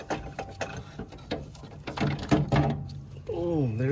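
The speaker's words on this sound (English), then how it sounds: "Let's grab it and pull it out." A Honda Civic alternator from a 2001-05 model being wiggled and pulled free of the engine, with clattering metallic knocks and scraping against brackets, close and fairly loud, ending in a rising whining squeal.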